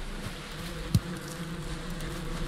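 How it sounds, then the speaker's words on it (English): Bees buzzing around a beehive in the survival game Valheim, a steady low drone throughout with one brief soft thump near the start, no talking. "let's check on the bees"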